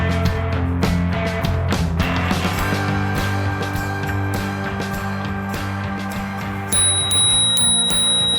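Bicycle bell rung repeatedly in quick bright dings over several seconds, close and clear, with a sustained high tone entering near the end.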